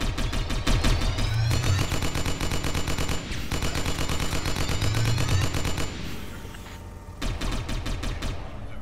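An automated turret hammers out rapid machine-gun fire in a cyberpunk tactics game, long dense bursts with brief pauses between them. Loud and sustained, with no voices.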